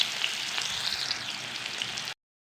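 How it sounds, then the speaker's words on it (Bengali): Onions fry in hot oil with a bright, steady close sizzle and light crackling, cutting off abruptly into silence. "তেলটা গরম হয়ে গেছে, পেঁয়াজ দিয়ে দিচ্ছি। এবারে পেঁয়াজটা ভালো করে ভেজে নেব।"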